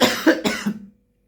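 A single sharp cough from a speaker during a religious lecture, loud and close, broken into two or three quick bursts before cutting to silence.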